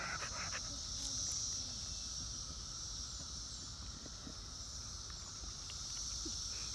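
Brood X cicadas in Washington, DC make a steady, high drone that continues evenly throughout, fairly faint and distant, over low outdoor background noise.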